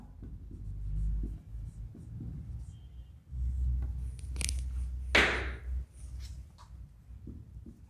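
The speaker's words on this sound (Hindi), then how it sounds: "मैं इसे लिखती हूँ, बोल्ट्जमान के अनुसार" Chalk or marker writing on a board during a physics lecture, close scratchy strokes and taps in short bursts with a sharper scrape midway, heard alone without talk over it.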